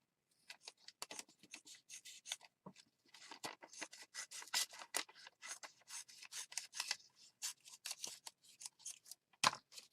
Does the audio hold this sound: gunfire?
no